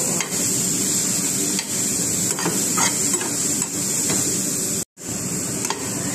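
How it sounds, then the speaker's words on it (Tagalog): Cashews frying in hot oil in a pan, a close, steady crackling sizzle with occasional stirring scrapes and one brief dropout near the end. "Nakasalang na rin yung ating cashew."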